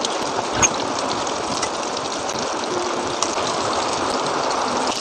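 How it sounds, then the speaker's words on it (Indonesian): Rain falls steadily outdoors, a dense, even hiss of drops that carries unbroken and fairly loud throughout, with no talk over it. "Di luar lagi hujan"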